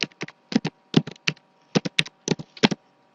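A word being typed on a computer keyboard, a quick run of about a dozen crisp, close key taps in small irregular bursts with short pauses between.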